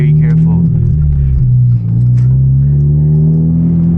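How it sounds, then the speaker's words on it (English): A Genesis Coupe turbo engine droning steadily from inside the car while driving through a tunnel at night, a loud, even, low hum with a slight dip midway; someone talks over it. "I love hearing my turbo here."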